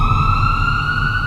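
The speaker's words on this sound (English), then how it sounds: "An ambulance rushed in," A loud, steady ambulance siren wails alone, close and unbroken.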